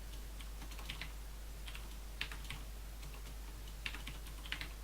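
Someone types a file name on a computer keyboard: quiet, close keystrokes in short irregular bursts over a low steady hum.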